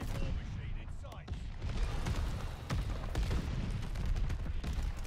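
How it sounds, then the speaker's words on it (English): Explosions and gunfire from the Call of Duty Vanguard video game, with dense rumbling booms and rapid shots crackling continuously at moderate level. "I can't hear over all these explosions"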